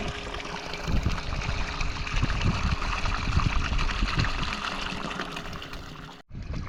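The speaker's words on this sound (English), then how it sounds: "Like I said, a lot of rain." Rain patters and trickles beside an eroding riverbank in Alaska, a constant watery wash with scattered low thumps that briefly drops out near the end.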